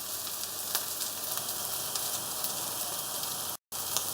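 Gammon and potato patties bound with flour and egg fry in a pan of oil, giving a steady, close, even sizzle with faint crackles throughout and a brief dropout near the end, no talking.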